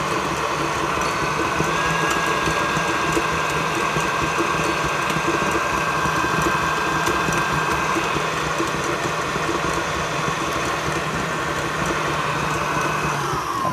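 A stand mixer motor runs steadily while whisking cream, a loud continuous whirring drone with a faint high whine that holds unchanged throughout.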